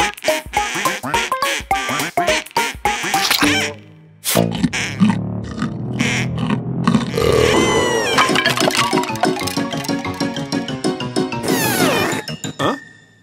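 A cartoon vampire duck from a Pocoyo Halloween haunted-house episode quacks in loud, bursting calls amid busy cartoon music and effects, with sharp squawks and sudden drops.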